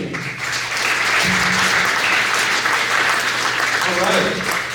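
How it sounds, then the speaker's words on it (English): Audience applause at a political candidate forum, loud sustained clapping that swells after a brief quieter start, with a low steady hum beneath and brief voices mixed in. "How about one unified big round of applause for this outstanding"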